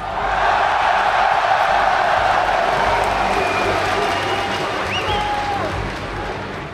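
A large crowd at an esports quarterfinal match applauds and cheers loudly in a dense, sustained roar that eases slightly toward the end.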